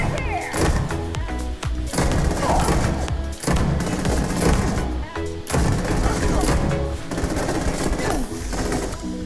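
Regulator gun fired in Starfield while clearing buildings, heard as loud, dense bursts of rapid shots in several runs with brief gaps for pauses, layered with in-game effects.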